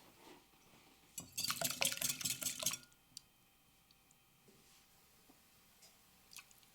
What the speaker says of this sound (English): In a separate bowl, whisk the eggs.